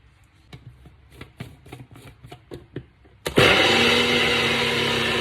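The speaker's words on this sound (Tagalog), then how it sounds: "Mas maganda nga Nutribullet gamitin kaysa sa food processor." A Nutribullet blender grinds a pistachio mixture, preceded by a series of light taps and knocks, then roars on loudly and runs steadily to the end.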